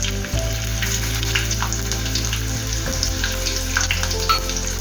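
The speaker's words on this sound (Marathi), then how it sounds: "तेल गरम झालं त्यात आपण कांदा टाकू." Onion and bay leaves go into hot oil for a Malvani-style mussels masala, giving a steady, close, loud sizzle and crackle that continues unbroken throughout.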